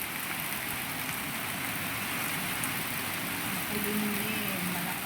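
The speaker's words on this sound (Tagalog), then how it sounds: "Makulimlim, malakas ang ulan." Heavy, steady rain pours down outdoors during a windy, overcast storm, a dense continuous hiss with a faint low engine-like hum joining near the end.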